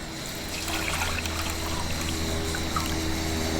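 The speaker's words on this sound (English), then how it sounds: "I'm gonna fill it up with water before I put it on the fire." Water trickles and splashes into a cup outdoors at a campfire, a steady close pouring and dribbling sound with faint background rumble, no talking.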